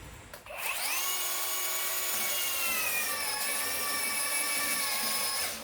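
Ryobi 18V brushless belt sander spinning up to a steady high-pitched whine and whirring on, motor tone shifting slightly as it is pressed hard against the surface; close and continuous, no talking.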